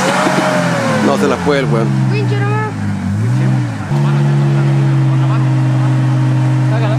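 A car engine accelerates and holds a steady, loud drone, rising and shifting pitch at first, with several people talking and shouting over it.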